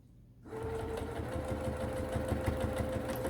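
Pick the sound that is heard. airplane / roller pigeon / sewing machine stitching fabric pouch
sewing machine stitching fabric pouch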